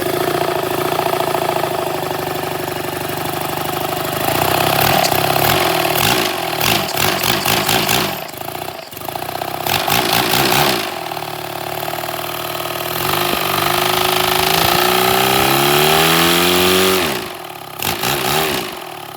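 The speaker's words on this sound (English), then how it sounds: "let's start with no muffler first and see how it sounds" Small 3D printed inline twin engine running on a straight pipe with no muffler, loud and close, idling and then revving up and down in several bursts before settling near the end.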